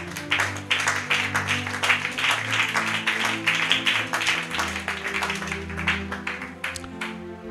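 Church congregation clapping together, a sustained burst of rhythmic applause over held organ or keyboard chords, lasting several seconds with no speech.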